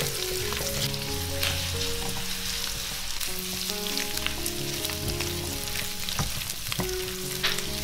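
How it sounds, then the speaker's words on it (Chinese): Diced garlic and ginger hitting a hot wok alongside pork belly, squid and mushrooms, producing a loud, dense frying sizzle with frequent clicks and scrapes of stirring, and no speech. "然后把提前切好的蒜粒跟姜粒放进来"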